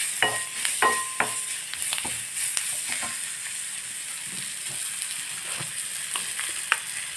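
Small shallots, salted to soften faster, sauté in a pan with a soft, fairly quiet sizzle and scattered light taps of a stirring spoon.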